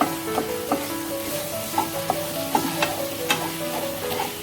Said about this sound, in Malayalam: ഇത് നന്നായി ഇളക്കി ഇത് നമ്മൾ ഒന്ന് ഉടച്ചും കൊടുക്കണം